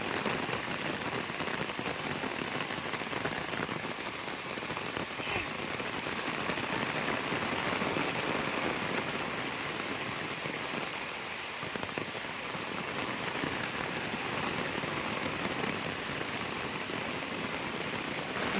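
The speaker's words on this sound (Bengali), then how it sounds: "এখন মুসলধারে মেঘ ভাঙা বৃষ্টির মতো বৃষ্টি হচ্ছে" Heavy rain pours down steadily in a dense, continuous hiss that never lets up.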